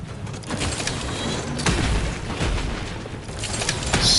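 Explosions and booming impacts in The Outer Worlds 2, a melee lone-wolf run on very hard difficulty, with an enemy throwing bombs; several dull booms and crashes burst over steady game noise, the loudest near the end.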